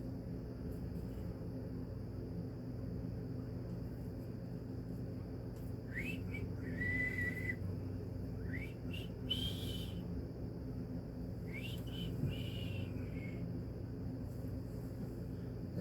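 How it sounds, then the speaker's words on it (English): A man whistles a few short melodic phrases in brief bursts, fairly close, over a steady low rumble of background noise, with pauses between the tunes. "If I ain't talking, I like to whistle."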